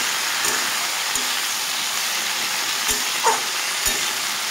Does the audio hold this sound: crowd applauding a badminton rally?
no